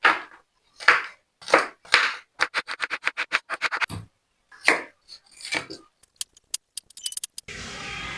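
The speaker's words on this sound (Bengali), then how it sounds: "তাহলে সবজিগুলোকে এবার এক এক করে কেটে নিই" A knife chops beans and carrots on a board, sharp close knocks coming first in slow single strokes, then in quick even runs, with brief pauses between batches and a sizzle near the end.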